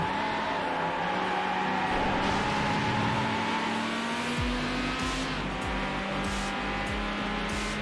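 A racing car engine in the video game Need for Speed Hot Pursuit 2 roars continuously at high revs, loud and steady, with shifting pitch and a deeper surge partway through, heard alone without talk.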